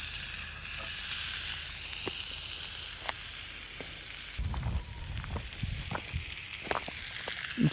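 Steak sizzles on a griddle set over a campfire outdoors, a steady hiss with faint crackles and pops throughout, growing busier with sharper crackling in the second half.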